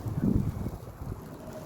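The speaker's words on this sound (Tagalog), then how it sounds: "Kusog kayong hangin dito sa pikas" Strong wind gusts buffet the microphone in low, rumbling bursts during snowfall in Busan, loudest at the start and easing slightly after.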